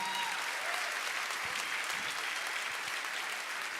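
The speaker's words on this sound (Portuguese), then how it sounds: "Vamos aplaudir o Senhor pela vida dele." A church congregation applauds during a service, giving a sustained, even round of clapping that sounds somewhat distant and faint, with no talking over it.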